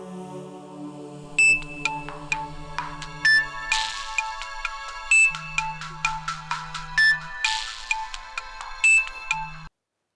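A mobile phone plays a melodic electronic ringtone of repeated bright chiming notes over a steady low tone, loud and close for about ten seconds, then cuts off abruptly, with no talking.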